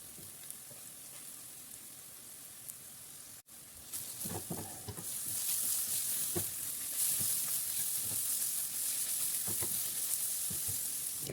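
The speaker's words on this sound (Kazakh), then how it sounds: "2-3 минут қуырып алғасын, оның үстінен сәбізімізді салып, сәбізімізді де 2 минутта қуырып аламыз." Onion and carrots fry in oil in a pan. A soft hiss turns into louder, steady sizzling after a clunk, with occasional stirring scrapes and no talking.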